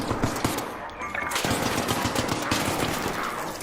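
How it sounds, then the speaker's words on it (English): Rapid automatic gunfire from a video game, with dense bursts of shots rattling continuously and loudly throughout, barely pausing, and faint voice activity mixed underneath. "I'm getting shot from behind him."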